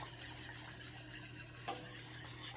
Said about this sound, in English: We're going to whisk it up again.